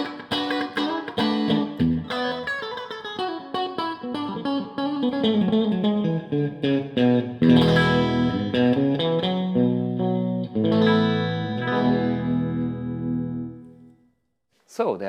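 Clean electric guitar tones through a BluGuitar FATCAB cabinet on stage, with picked arpeggios and chord phrases ringing bright with chorus-like shimmer, played continuously before a short silence near the end.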